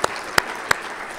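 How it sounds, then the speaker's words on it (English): Three sharp, separate claps ring out close by over steady room noise as the audience applauds colleagues, brief and with no talk. "I just want to give them a round of applause."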